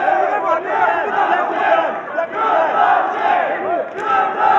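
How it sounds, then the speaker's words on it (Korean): Fans at a ROAD FC mixed martial arts bout chant a cheer song together, a dense, loud crowd roar with rhythmic swells that carries steadily throughout. "환호송 소리가 들립니다"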